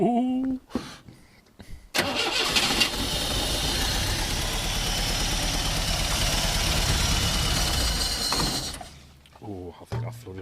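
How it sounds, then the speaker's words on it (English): An old Austin A40 Somerset being cranked on its original battery, a few short starter bursts, then the engine catching and running loudly and roughly for several seconds before dying away, with a voice heard briefly. "We'll see if she turns over and see if she fires there."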